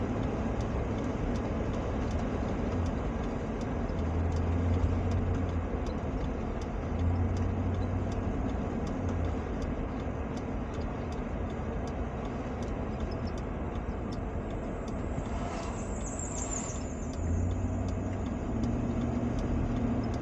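Car on a highway towing a trampoline, giving a steady, continuous road rumble and engine drone throughout with wind noise, no talking.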